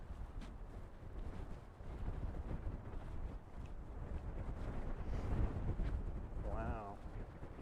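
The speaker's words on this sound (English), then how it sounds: "A lot of wind." Strong wind buffets the microphone outdoors near water with boats, a steady low roaring rush that swells and gusts throughout, with a brief whistling tone near the end.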